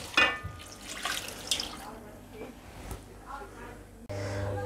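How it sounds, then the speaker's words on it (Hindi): About half a litre of water is poured into a pot while chana daal and keema cook, giving a splashing, trickling pour that fades, then a louder gush near the end. "एक हाफ लीटर मैं इसने पानी पासा।"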